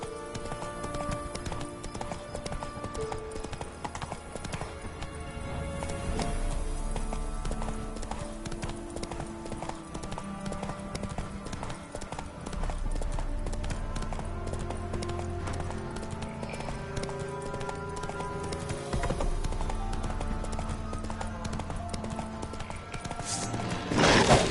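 A horse's hooves clip-clop steadily in The Witcher 3 video game, a quick rhythmic gallop that slows, with occasional whinnies and game music running underneath.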